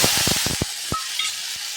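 Shallots and chillies sautéing in oil give a bright, hissing sizzle, opened by a quick cluster of stirring scrapes and clacks. Then the frying carries on alone, close by.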